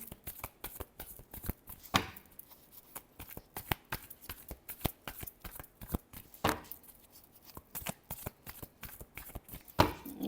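Tarot cards being shuffled during a love reading, a steady run of sharp riffling flicks with a few louder bursts, close and clear with no talking.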